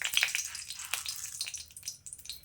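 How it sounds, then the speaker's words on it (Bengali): Two dried red chillies frying in hot mustard oil, a steady close sizzle and crackle with small popping spits, continuous and moderately quiet. "তেলের মধ্যে প্রথমেই দিয়ে দিচ্ছি আমি দুটো শুকনো লঙ্কা"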